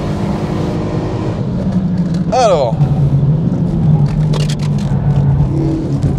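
A Renault Megane 3 RS Châssis Cup is driven on a track, its steady engine drone running under in-car talk, with one brief sweeping rise in pitch from a gear change or rev.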